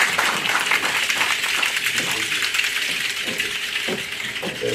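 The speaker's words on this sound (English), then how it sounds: "Let's applaud her once more, the South African way." An audience at a scientific section meeting applauds after a presentation, a dense, steady wash of many hands clapping at a fairly close distance, with faint voices mixed into the crowd.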